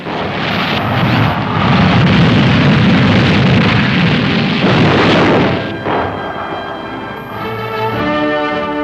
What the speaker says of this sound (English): Sabre jets unleash a fiery fury of gelid gasoline napalm bombs.